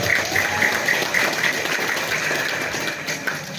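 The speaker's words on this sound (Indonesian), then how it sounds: "Tepuk tangan heula keur para panitia ya karang tarena." Applause for the organizing committee at a mosque gathering marking the Prophet Muhammad's birthday, a soft, steady spatter of clapping heard at a distance, with a faint repeating tone beside it.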